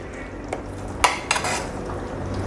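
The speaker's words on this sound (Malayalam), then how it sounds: "ഇനി നമ്മൾ നേരത്തെ അരച്ച് വെച്ചിരിക്കുന്ന ആ കൂട്ട് ഇതിലോട്ട് ചേർത്ത് കൊടുക്കാം" Thick ground paste of tender coconut and cashew going into chicken curry in a pan: a few scrapes and clinks of a spoon against cookware, one sharp knock near the middle, with low steady cooking noise underneath.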